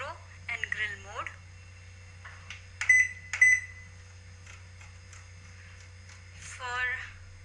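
A microwave oven beeps in short tones as micro and grill mode is set, a few distinct bleeps scattered between bursts of nearby talk over a low hum.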